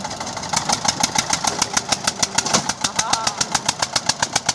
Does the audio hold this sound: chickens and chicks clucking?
no